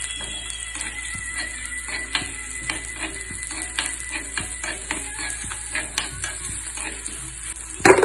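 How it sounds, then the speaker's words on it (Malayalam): Onion, ginger, garlic and shallots frying in a pan, a continuous close sizzle dotted with frequent light clicks and scrapes of a utensil against the pan. "ഉള്ളി ഇഞ്ചി വെളുത്തുള്ളി കൊച്ചുള്ളി ഇഞ്ചി കേട്ടോ അപ്പം അതൊന്നിങ്ങനെ മൂപ്പിച്ചെടുക്കുക"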